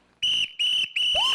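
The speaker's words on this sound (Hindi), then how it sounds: "अरे सीटी क्यों बजा रहा है?" Three loud, shrill whistle blasts sound in quick succession, each about a quarter to half a second long, close and piercing with no talk.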